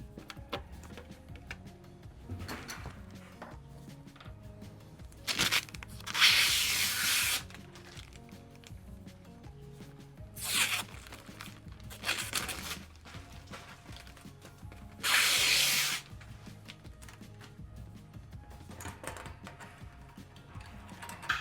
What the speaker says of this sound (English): Now we're just going to peel this plastic off of here.